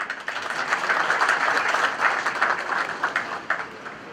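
Steady applause from a crowd at an art exhibition opening, many hands clapping together without a break, fairly close and sustained for several seconds.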